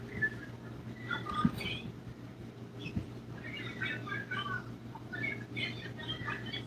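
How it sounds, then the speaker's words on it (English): Pet birds chirp and whistle indoors in a busy, steady stream of quick bright calls over a constant low room hum, moderately faint. "My birds have been a little bonkers today."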